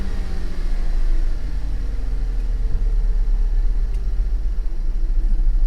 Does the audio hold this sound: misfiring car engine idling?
yes